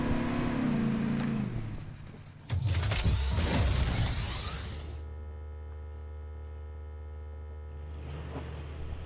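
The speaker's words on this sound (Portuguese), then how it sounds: "deixa eu pegar uma motinha elétrica ali" Electric motorbike in the mobile game Call of Duty Mobile, a loud whirring electric drive that swells and surges, then settles into a steady hum with a faint higher whine near the end, no speech.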